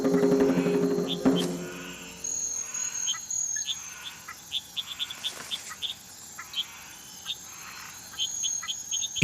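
Frogs croaking in a rainforest, a chorus of short repeated calls and chirps scattered through the clip, moderately close, alongside insect-like trills, with a louder low rumble at the start.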